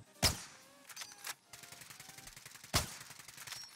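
Two sharp, loud single gunshots in a video game, spaced a couple of seconds apart, with fainter firing and game noise in between.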